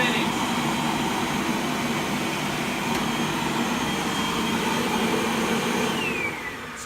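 A Dyson vacuum cleaner runs with its suction working but its brush bar not spinning. It gives a loud, steady, close whine and roar that holds level throughout, then drops slightly at the very end.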